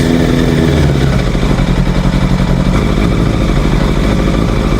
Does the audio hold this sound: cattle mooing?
no